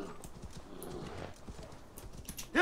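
Hoofbeats of a horse clip-clopping at a gallop in Assassin's Creed Valhalla, a steady rhythmic patter under light game ambience, ending in a sudden louder burst.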